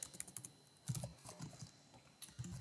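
Code being typed on a computer keyboard, quick irregular clacking keystrokes in short bursts, close and fairly quiet with no talking.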